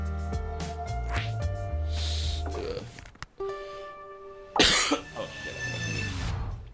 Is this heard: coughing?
yes